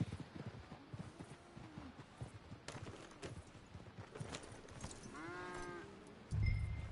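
Steady clip-clop of horse hooves walking at an easy pace in Red Dead Redemption 2, close by, with a few faint tonal sounds near the end.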